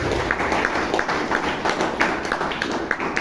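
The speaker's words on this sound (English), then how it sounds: "let's give him a big round of applause" Audience applause at a Toastmasters meeting in Bangalore: steady, dense clapping from a roomful of people, sustained at an even level throughout with scattered sharper claps standing out.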